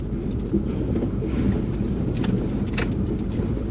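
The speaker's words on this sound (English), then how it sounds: "Do you hear the trailer bouncing off the ground?" Steady low road rumble from a moving vehicle, with scattered rattling and clanking bursts as a towed trailer jolts over the surface.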